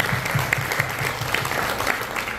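An audience at a scholarship award ceremony applauds steadily throughout, a full, even roll of many hands clapping with a faint murmur beneath.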